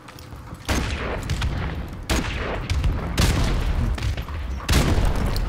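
Grenade blasts and gunfire in the shooter Modern Warfare Remastered: a run of loud, abrupt bursts close by, each hit leaving a rumbling tail. No speech is heard.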